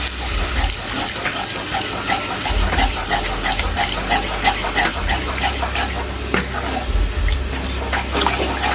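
Water is poured from a glass into a pot of simmering lechon paksiw, a close hissing splash and bubbling under low kitchen background noise.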